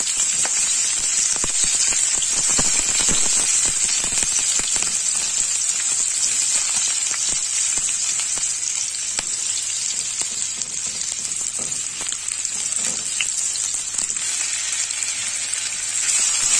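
Finely chopped onion fries in a pan for methi besan bhaji, giving a loud, steady, bright sizzle that runs unbroken throughout, with faint scraping stirs and no talking.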